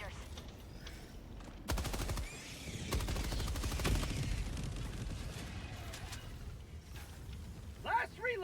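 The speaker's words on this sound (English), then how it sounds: "I got cluster bombs, so I'm gonna drop them." Cluster bombs dropped in the video game Helldivers 2: a rapid string of booms and crackling gunfire-like blasts, loud and fairly close, with voices talking over the barrage.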